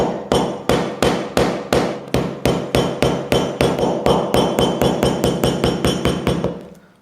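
A hammer strikes frozen ice cream about twenty times in a steady, fairly quick rhythm, each blow a sharp, close crack with no voices.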